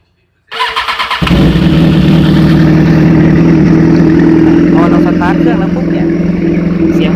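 A 2014 BMW S1000RR sportbike, repaired after a broken direct ignition coil and a faulty one-way starter clutch that caused a rough idle, cranks briefly with rapid pulses, then fires and settles into a loud, steady, close-up idle.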